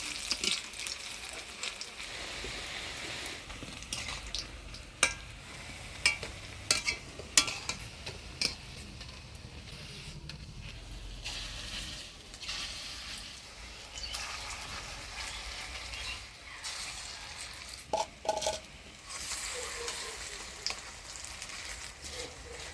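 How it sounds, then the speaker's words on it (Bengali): Egg and cabbage koftas frying in hot oil in a home kitchen, a steady close sizzle with occasional stirring clinks and brief splashy bursts, continuous throughout with no talk. "সুন্দর করে সব কোফটাগুলো ভাজিয়ে নিলাম"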